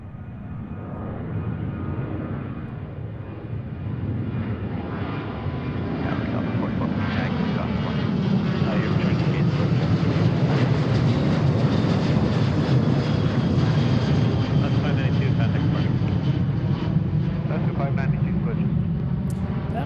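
An airliner takes off at Seattle-Tacoma airport, its jet roar building steadily into a loud, sustained rumble and whine that holds for the rest of the clip, heard from a distance with people talking over it.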